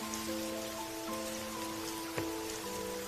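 Steady rain falling, a soft continuous patter and hiss beneath sustained musical tones, with one sharper drop-like tap, no voices.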